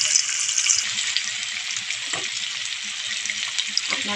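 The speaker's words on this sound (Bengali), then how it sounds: "যে বাটারটি বেঁচে আছে ওতে দিয়ে দিলাম পেঁয়াজ।" Chopped onions frying in leftover butter in a pan, a loud dense hiss of sizzling that holds steady, with a couple of faint stirring knocks.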